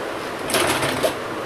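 A sewing machine stitching ribbon onto a small doll's half-pant suit runs in a short, close whirring burst of rapid stitches that rises briefly and then settles.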